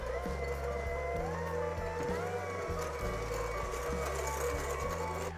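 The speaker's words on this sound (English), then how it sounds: "we wanna add a teaspoon of vanilla extract for flavoring and whisk this up" Whipped cream with a teaspoon of vanilla extract is beaten, a loud, steady mechanical motor whine whose pitch steps up and down in a loose repeating pattern.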